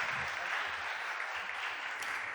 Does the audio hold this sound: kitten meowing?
no